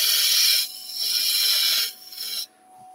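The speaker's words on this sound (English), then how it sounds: "If I come around the edge here, I'm using that blade tool." A woodturning blade tool cuts around the edge of spinning wood on a lathe, giving close, loud raspy scraping in three passes, each fading as the tool lifts off.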